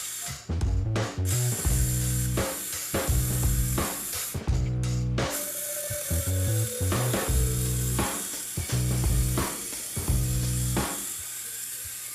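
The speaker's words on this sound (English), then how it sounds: "let's move to how the motor responds to this set of instructions." A small Arduino-controlled motor in an introductory robotics project runs through a programmed sequence, giving a loud, steady buzzing whir that shifts pitch in repeated stepped bursts with brief pauses.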